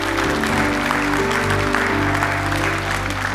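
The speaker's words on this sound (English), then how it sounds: "Oh, we can clap for that." Applause from a church congregation, a dense steady clapping that fills the room at close range for a few seconds, with music or voices faintly underneath.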